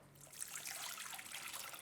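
Warm water pours steadily into a bowl of flour and active dry yeast for pizza dough, a soft, close trickle and splash with no voices.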